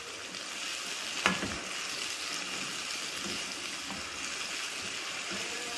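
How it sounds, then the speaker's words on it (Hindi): Potatoes and fenugreek leaves fry in a pan for an aloo methi dish, giving a steady soft sizzle with one brief clink of a utensil early on and no talk. "बस इसको अब मैंने थोड़ी देर भूनना है"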